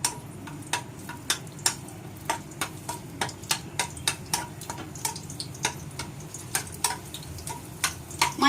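Dried red chillies and garlic fry in hot oil, crackling with sharp, steady pops over a low sizzle that carries on for several seconds without speech.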